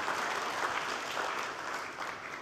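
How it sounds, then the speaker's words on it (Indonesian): A church congregation claps loudly and continuously during a sermon, a dense steady roar of applause with no voices over it. "Berikan tepuk tangan yang meriah buat Tuhan."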